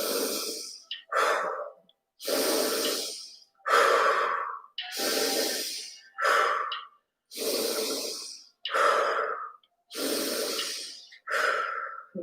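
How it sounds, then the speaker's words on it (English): Cannon breath in a guided meditation: repeated nasal inhales followed by forceful, loud exhales through the mouth, about ten alternating breaths in a steady rhythm, close and alone with no talking. "So this is cannon breath. So when we're exhaling here, we want to get it out"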